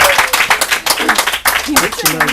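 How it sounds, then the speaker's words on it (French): A game-show audience breaks into steady, loud applause for a contestant, with rhythmic clapping close by and voices talking over it. "On applaudit Dida."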